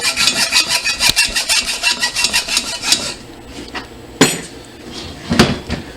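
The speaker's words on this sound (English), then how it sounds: "All that with a hacksaw." A hacksaw cuts through the metal of a factory turbo manifold in a close, rhythmic series of rapid back-and-forth strokes for about three seconds, then stops, leaving a couple of sharp metallic knocks.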